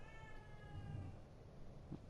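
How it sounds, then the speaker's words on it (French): A cat meows inside the horror video game The Evil Within 2, a faint, brief cry over a steady low background hum, with no talking. "Ah oui encore le chat qui miaule."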